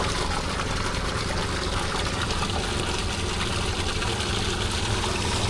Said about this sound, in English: That's pond water coming in.